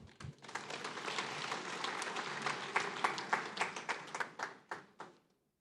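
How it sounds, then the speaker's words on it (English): Audience applause at a Lake Chad Basin governors' forum, a dense burst of clapping that thins into scattered individual claps before cutting off to silence. "Encore sous vos applaudissements"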